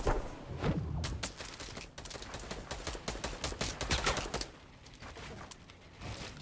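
Rapid gunfire crackles in a first-person shooter game, dense bursts of sharp shots rattling off in quick succession before thinning out.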